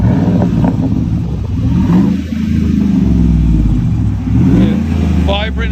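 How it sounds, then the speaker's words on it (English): A 2007 Ford Expedition XLT's 5.4L Triton V8 with Vibrant exhaust and bottle resonator revs repeatedly, loud throaty surges over a steady low rumble, with a voice briefly audible near the end. "Vibrant exhaust."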